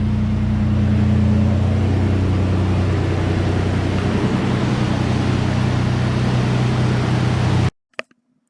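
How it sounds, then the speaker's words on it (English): A 1995 second-generation Toyota 4Runner with a 3.0 V6 idles after an oil change, giving a steady low hum with constant background noise that cuts off abruptly near the end. "Let her just idle for a minute."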